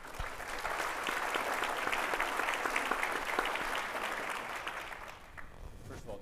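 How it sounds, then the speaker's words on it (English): A crowd at a public conversation on the defense of Ukraine applauds a senator, a full steady clapping that holds for several seconds and then tapers off toward the end. "this is the most applauding crowd I have ever been in"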